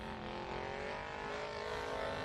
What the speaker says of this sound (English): have a listen to that Kaminsky car. It is roaring